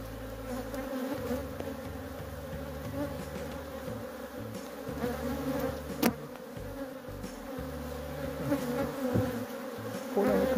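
Honeybees droning inside a winter hive while pollen substitute is laid over them, a dense continuous buzzing hum that is close and steady, with occasional handling knocks and no talking.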